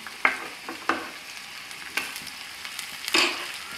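Chayote pieces sautéing in a pan with green chilli, dried chilli and ginger for chaw chaw chutney, a steady soft sizzle broken by a few sharp stirring scrapes, close and moderately quiet, with no talking.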